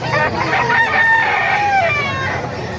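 A rooster crows loudly and close by at a rooster market in Bocaue, Bulacan, one long drawn-out cock-a-doodle-doo over a steady background hum.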